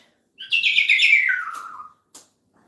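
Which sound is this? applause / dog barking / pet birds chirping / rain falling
pet birds chirping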